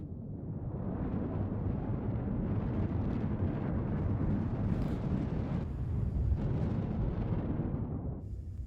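Spaceship thrusters in a space game roar in a steady, dense rumble while the craft strafes up and down, with soft bursts and swells riding on a continuous loud wash and no voices.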